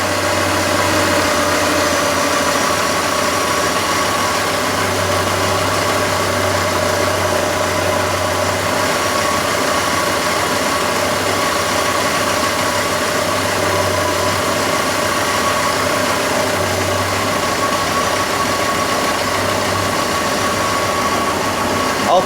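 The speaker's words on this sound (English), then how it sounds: "Alternator doesn't sound very good." A worn, clapped-out 4-liter engine idles steadily with a droning hum and a rough-sounding alternator, and metal in the oil adds to its poor condition. The steady running continues unbroken throughout.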